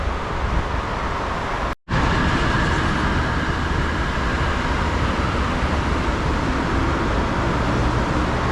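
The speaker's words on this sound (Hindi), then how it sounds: "अभी जैसे ही ट्रेन आती है तो आई शो यू इनशाला" An MRT metro train in Jakarta rumbles and rattles loudly and continuously along the track as it comes into the station. The noise stays close and steady apart from a brief gap near the start.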